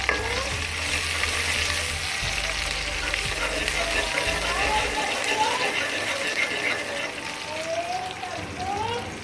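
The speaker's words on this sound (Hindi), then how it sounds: "डालेंगे प्याज को ब्राउन करेंगे" Onions frying in hot cooking oil, a continuous close sizzle with stirring scrapes and low clattering, while a voice is heard faintly in the background.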